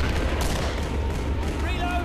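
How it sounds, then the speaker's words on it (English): Dense, continuous gunfire in the video game Killing Floor, loud rapid shots blending into a constant roar with game effects overlaid, filling the whole moment. "They're shooting each other"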